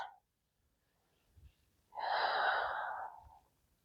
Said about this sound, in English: We have just a couple more breaths.